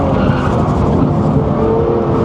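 A McLaren 750S or Lamborghini Revuelto rounds a race track, its engine a loud, sustained roar with slight tyre noise, heard close throughout.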